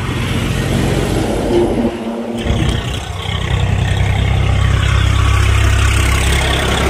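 A Tata Signa 4825 BS6 tipper truck's diesel engine runs at a steady idle, a loud, close, continuous rumble with a brief dip partway through before settling back into a heavy drone.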